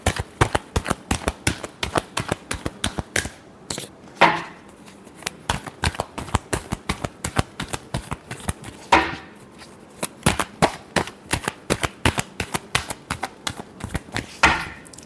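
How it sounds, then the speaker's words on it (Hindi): Tarot cards shuffled by hand in a rapid, steady stream of crisp riffling taps, with two louder flurries partway through, close and continuous with no talking. "Last shuffle."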